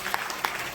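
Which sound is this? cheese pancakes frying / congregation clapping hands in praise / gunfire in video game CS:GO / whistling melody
congregation clapping hands in praise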